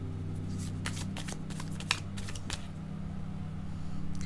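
Tarot cards are shuffled close by to draw a card, giving a series of quick riffling flicks over a steady low hum from the room.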